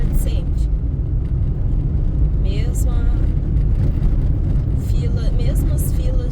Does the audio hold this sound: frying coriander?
no